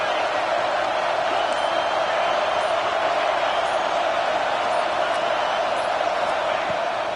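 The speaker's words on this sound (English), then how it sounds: "Big third down as the crowd gets behind this defense." Football stadium crowd at a Florida State vs Utah game roars steadily behind the defense. The broad, continuous wash of cheering is heard from a distance and does not let up.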